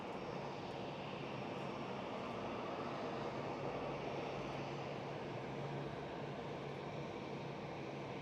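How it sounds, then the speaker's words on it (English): An airliner on the Milan flight at Cologne Bonn Airport, a loud continuous jet engine roar with a broad rushing hiss and low rumble, steady and near for the whole stretch. "So I'm guessing this is the Milan flight, Alexandra."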